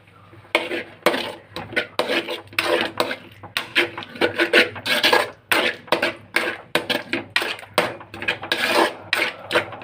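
Tomato sauce stirred in a bowl for gobi manchurian in a home kitchen, a spoon scraping and clinking against the bowl in quick, irregular bursts, close and fairly loud, with no talking.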